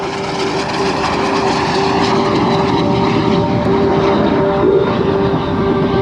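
An Aero L-39 jet trainer with a single jet engine makes a fast low pass at the 2006 AirPower Over Hampton Roads air show, producing a loud, steady broadband roar that fills the whole stretch without any talk.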